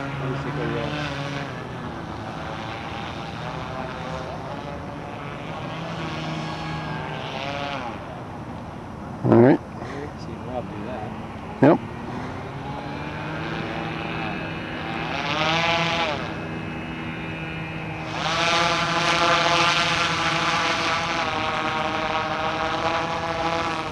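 A quarter-scale model boat motor runs steadily on open water, a buzzing engine drone with harmonic whine that rises in pitch as the throttle opens, two sharp knocks partway through, and people talking over it.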